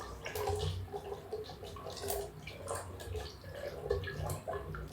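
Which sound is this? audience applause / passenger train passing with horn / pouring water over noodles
pouring water over noodles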